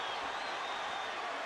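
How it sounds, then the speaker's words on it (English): Boxing arena crowd at a championship fight cheering loudly, a dense continuous roar with no breaks. "The crowd is going nuts,"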